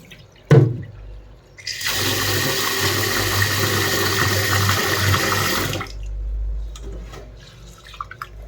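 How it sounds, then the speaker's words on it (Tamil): Green gram (mung beans) being rinsed in water in a kitchen: after a single knock, a steady rush of running, splashing water continues for about four seconds and then stops, leaving faint clinks. "ஒரு 3 டைம் இதுக்குள்ளே வாஷ் பண்ணிக்கிங்க."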